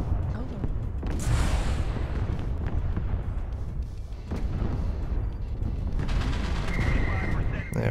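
Mech weapon fire in Mechwarrior Online from a Vindicator: a steady heavy rumble with repeated blasts and bursts of crackling impacts over about eight seconds, with a voice talking underneath.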